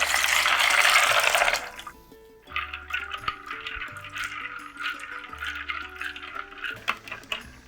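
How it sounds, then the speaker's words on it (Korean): Nuts being washed in cold water, with a loud rush of water from a tap for the first couple of seconds, then soft sloshing and splashing as the nuts are stirred in the water. "먼저 찬물에 넣어 2번 정도 씻어주세요."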